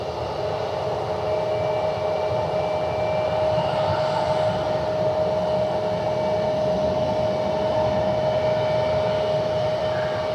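A Delta airliner going around after an approach at Cleveland Hopkins gives off a steady, loud jet engine roar with a sustained whine, continuous and unbroken throughout without voices.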